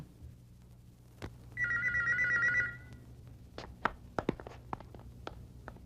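A telephone rings once in a short electronic burst of about a second, fairly loud over a quiet room, followed by several sharp clicks and knocks as someone moves toward it.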